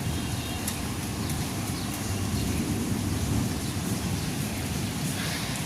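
Steady rain pours down on a rooftop garden of sweet potato plants and vegetables, a dense continuous hiss and patter with a low rumble beneath, close and unbroken, with no talking.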